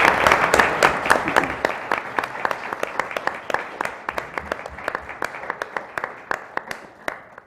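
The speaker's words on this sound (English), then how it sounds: "Shall we give her another round of applause?" Applause at a board meeting, a medium-sized room clapping steadily for several seconds, with the individual claps sharpening and thinning out as it winds down.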